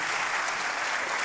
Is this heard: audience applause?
yes